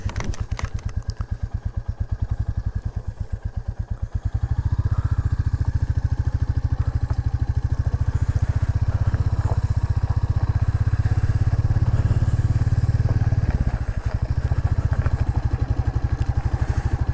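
A Royal Enfield Classic 350 motorcycle engine thumps with a fast, steady single-cylinder beat, then picks up into a louder, sustained running drone on a forest road, close and continuous with a brief dip near the end.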